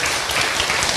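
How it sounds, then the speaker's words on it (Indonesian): A brief burst of steady, dense applause from an audience at a religious lecture, filling the whole second without any talk. "Tepuk tangan buat ibu yang pertama"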